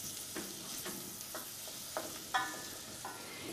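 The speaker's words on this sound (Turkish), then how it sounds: "Evet, şimdi etlerimizi atacağız." Pieces of kid goat meat sizzle in melted fat, a steady crackling fry broken by several sharper bursts as pieces are stirred and turned, close and moderately loud with no talk.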